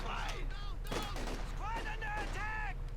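Quiet, intermittent machine gun fire from a real-time strategy game crackles in short bursts under a voice talking throughout.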